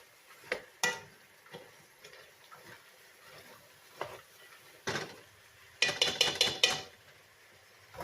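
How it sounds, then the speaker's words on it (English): Black, red, pinto, navy and butter beans are stirred together for depression-era chili, with scattered soft spoon knocks and scrapes in a bowl, then a quick burst of clinking near the end, quiet overall. "I'm just mixing all this together"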